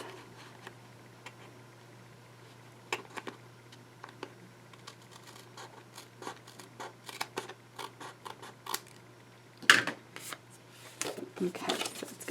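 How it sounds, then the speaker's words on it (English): Scissors trim cardstock during card making, giving quiet, scattered snips and clicks at uneven intervals against a faint background hum, with one slightly louder cut near the end. "then I can just take my scissors and just trim that off."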